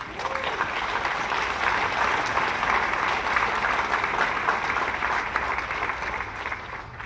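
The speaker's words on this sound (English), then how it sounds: "I think that deserves a round of applause." Crowd applause at an outdoor George Floyd rally in Matthews, NC: a loud, sustained wash of many hands clapping that stays steady for the whole stretch.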